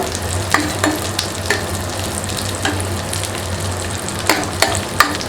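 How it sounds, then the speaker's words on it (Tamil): Raisins fry in ghee for a red rice flakes kheer, giving a loud, steady sizzle close by, with scattered crackles and pops throughout. "இது லைட்டாக வறுபடட்டும்."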